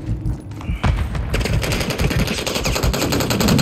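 Rapid automatic gunfire in Call of Duty Modern Warfare III, a Kill Confirmed match on PS5, rattles in fast continuous bursts, loud and close throughout with no talking.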